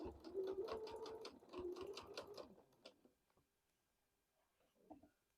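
A sewing machine stitches a quilt block seam in two quick, rattling runs of rapid needle strokes, then falls quiet before a faint final tap.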